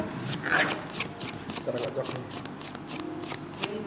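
Tarot cards shuffled by hand close to the microphone: a quick, steady run of crisp riffling flicks and slaps repeating for several seconds, with faint voices in the background.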